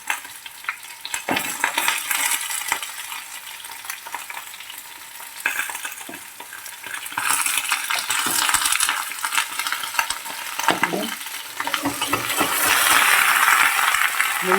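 Small peeled potatoes fry in hot oil, a loud, continuous bubbling sizzle with crackling spatters from their water, swelling and easing, occasional clinks and stirring noises, close up with no speech.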